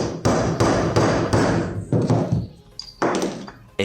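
A junk engine piston is struck repeatedly with a hammer, about seven loud metallic whacks in an uneven rhythm, each a sharp close impact with a brief ringing tail.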